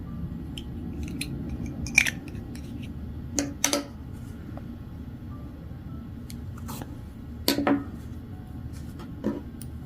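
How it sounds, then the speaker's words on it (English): Scissors snip yarn for a crocheted beanie in a few short, crisp cuts spread across a quiet indoor room, each a brief close click over low background hiss. "I got my scissor here, so I'm gonna cut the yarn that much."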